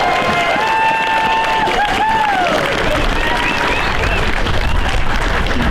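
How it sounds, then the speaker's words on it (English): Audience applause and cheering fill the room at a high school football team celebration, a dense wash of clapping with a few raised voices and whoops mixed in. "I'd like to just give a round of applause."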